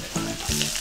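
Pounded chicken tenderloin fries in a large pan over medium-high heat, producing a brief, close sizzle with a few quick spattering bursts and no talking.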